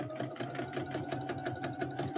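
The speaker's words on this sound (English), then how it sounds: "You would sew right here across the neck for the face and the belly." A sewing machine stitching across the neck of a memory bear, running at a steady even pace with a rapid rhythmic mechanical chatter, close and continuous throughout.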